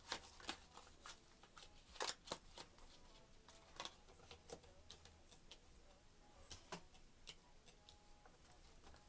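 Tarot cards being shuffled and drawn, producing soft, close, irregular ticking and riffling clicks with a few sharper snaps, quiet and steady throughout.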